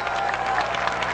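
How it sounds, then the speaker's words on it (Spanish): Congregation at a Spanish-language evangelical church service applauding, a brief dense wash of many hands clapping together at moderate loudness with no voices over it. "Denle un aplauso grande a Jesucristo."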